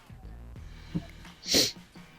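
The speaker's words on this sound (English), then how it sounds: "Oh man, big sneeze." A single loud, sharp sneeze bursts out after a quiet moment of faint breathing and shuffling, close and abrupt.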